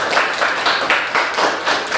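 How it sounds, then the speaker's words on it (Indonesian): A classroom group gives applause for the first student team, a dense steady patter of many hands clapping together at close range, swelling in loose waves without any talk over it. "Tepuk tangan buat kelompok 1"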